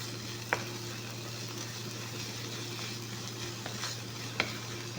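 Garlic sizzles softly in a pan, a quiet even crackle with a couple of brief metallic taps from stirring.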